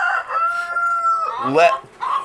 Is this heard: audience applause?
no